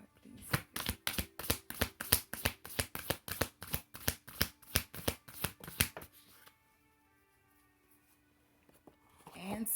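Tarot cards shuffled during a reading, a rapid run of crisp riffling bursts in steady rhythm, close and fairly loud, ending abruptly and followed by near silence before a faint rustle.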